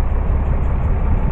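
Farm tractor engine idling near a small square baler, a loud, close, steady low rumble with no break across the short span.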